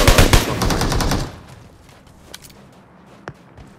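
Rapid automatic gunfire bursts loudly for about a second in a competitive shooter video game, then gives way to scattered fainter shots and footstep-like thuds.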